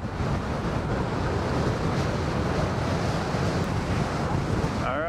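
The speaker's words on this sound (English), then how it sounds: "So now the wind can smack me from the right instead of the left." Heavy, steady wind noise buffets the microphone while riding a Gotway MSX 100V electric unicycle along Fort Myers Beach, with a surf-like roar filling the whole stretch, loud and constant.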